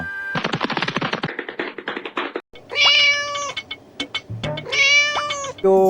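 A cat meows loudly several times, drawn-out calls close by, after a fast run of tapping or clattering at the start.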